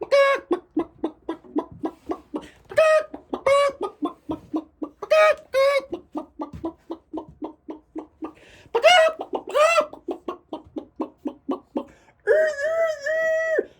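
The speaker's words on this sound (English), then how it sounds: "You're going to be hearing clucking, clucking." Chickens cluck in short repeated bursts with louder drawn-out squawks mixed in, close and busy, ending in a longer wavering call.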